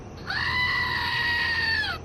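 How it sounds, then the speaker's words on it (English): A goat screams once in a single loud, harsh, sustained cry lasting well over a second, close and clear, with nothing else audible around it. "Screaming Goats."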